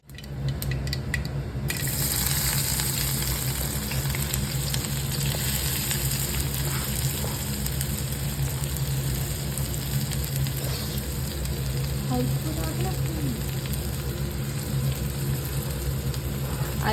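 Sliced onion and capsicum cook in hot oil for noodles with Maggi masala. The sizzle is even and continuous, with a low background hum under it and no voices.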